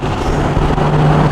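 A turbocharged Nissan 370Z Nismo engine drones loudly and steadily as heard from inside the car, a constant low roar with a sustained hum and no break.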